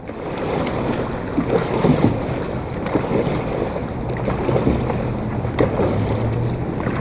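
A dragon boat team paddles across open water, with steady broadband splashing and water noise, wind buffeting the microphone, and faint low rhythmic strokes throughout, fairly loud and continuous.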